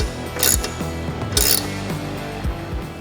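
Wrench ratcheting on rear fender mounting bolts of a 2018–2024 Harley-Davidson Fat Boy or Breakout bobber fender install, with quick bursts of ratchet clicks and metallic taps in a close, quiet workshop.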